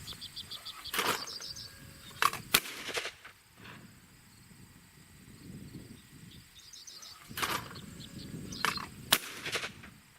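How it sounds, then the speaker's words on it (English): A 2018 Fabarm Elos D2 20-gauge over/under shotgun fired one-handed outdoors: sharp shots come in two pairs, one pair early and one later, over faint insect chirping and wind. "we'll take a couple shots one-handed just for the fun of it"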